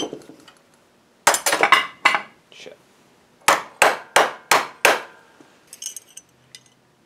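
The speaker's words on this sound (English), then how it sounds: "I just made sure to trim them to length with a chisel." Sharp metallic strikes ring out in two bursts, a cluster of rapid hits followed by five evenly spaced blows, bright and close, a chisel trimming an iron strip to length.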